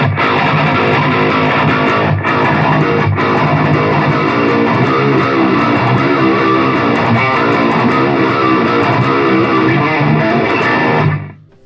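Electric guitar runs through the main patch of an Ampero multi-effects unit, producing a dense, heavily distorted wall of sound that stays loud and steady for about eleven seconds before cutting off, with no voices.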